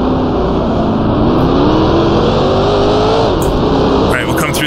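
Race car engine in Grand Prix Legends, a loud, close, continuous roar whose pitch rises and shifts through the gears, with a brief burst of other noise near the end.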